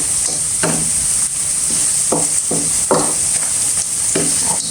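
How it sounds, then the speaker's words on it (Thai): Frog curry stir-fried in a hot pan, a steady loud sizzle broken by repeated scraping strokes of a spatula at an uneven pace, close up with no talk. "เราต้องตามผัดแห้งๆเนาะค่ะ"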